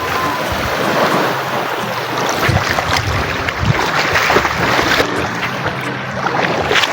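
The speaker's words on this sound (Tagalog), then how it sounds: "Wow, dagat!" Sea waves off Mindoro, Philippines, wash and splash continuously against a boat, mixed with blustery wind rumbling on the microphone, loud and close.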